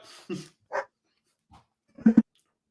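A dog gives a few short, sharp barks spaced apart over a couple of seconds, close and fairly loud, with gaps of quiet between them.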